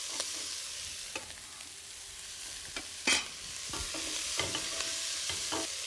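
Diced potatoes are tossed into a hot pan with oregano and chili flakes, sizzling steadily. Several clear knocks and scrapes from a spoon stirring them stand out close against the constant frying hiss.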